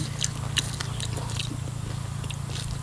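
Crunchy bites of crispy-skinned pork belly being chewed close up, a few sharp crackling bites early on, then steady chewing over a low constant hum.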